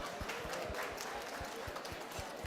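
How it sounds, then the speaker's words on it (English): A live audience at a Pride community event claps in a dense, steady patter of hand claps, fairly near and continuous through the short stretch, with no talk over it. "can I get a round of applause?"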